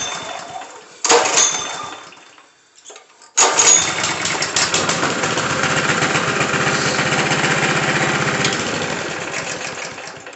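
A Honda GX160 engine on a plate compactor, running without the choke, fires up loud and close, cuts out briefly, then restarts and settles into a steady, slightly uneven running drone that eases off a little toward the end.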